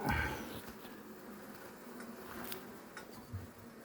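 Honey bees buzz faintly around a hive cut out of a wall, a low steady drone with occasional small clicks and knocks close by.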